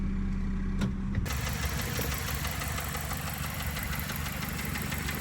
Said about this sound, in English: We're just cycling through the gears, make sure the oil gets everywhere.